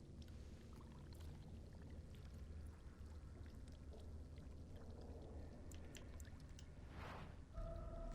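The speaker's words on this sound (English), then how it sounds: "Fill the earthen jug with water." Water pours into an earthen jug in the video game Dragon Age: Origins, a soft, continuous trickling splash over a quiet bed of noise. Bright chime-like tones sound near the end.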